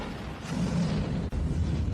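In a scene from the 2008 film Race, a car slams into a box truck, flips and explodes: a dense, loud, low roaring blast sustained across the whole short moment, with a brief dip near the end.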